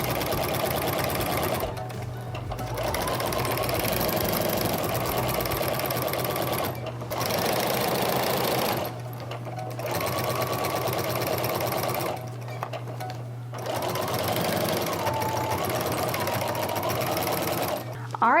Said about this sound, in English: we are done with the sewing machine